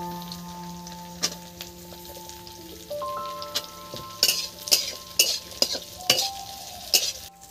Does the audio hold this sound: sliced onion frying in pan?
yes